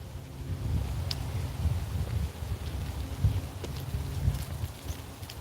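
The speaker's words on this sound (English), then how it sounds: "Rain was coming off of the trees there." Rainwater dripping off trees outdoors after a shower, scattered soft patters and drops over a steady low wind rumble, no voices.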